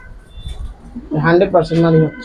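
A Military-breed pigeon from a home loft coos in close, rolling bursts during the second half, preceded by quieter low rumbling and faint background voices.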